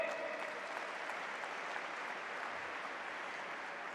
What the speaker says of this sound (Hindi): अरे ताली तो बजाओ इस पे।